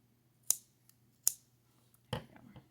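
Two sharp, close snips of scissors cutting knitting yarn while working moss stitch, spaced under a second apart, followed by softer handling rustles.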